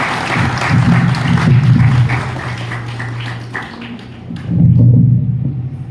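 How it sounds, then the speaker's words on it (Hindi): An audience claps to welcome Praveen Dharkoti at a business seminar. Loud, rolling applause swells, dips briefly, then surges again before fading out. "जोरदार ताली होनी चाहिए परवीन धारगोड़ी सर के लिए"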